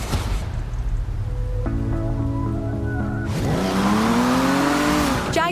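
A Jaguar car in Forza Horizon 4: a low engine drone, then a tonal whine, then a loud revving surge that climbs in pitch and swells up close, with a gritty tire-like hiss over it.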